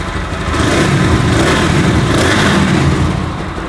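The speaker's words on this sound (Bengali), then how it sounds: "শুনতে পাচ্ছেন আপনারা বাইকের সাউন্ডটা।" Close, loud revving of a GPX Demon 165 RR motorcycle engine, rising and holding a sustained roar for a few seconds, with no voices.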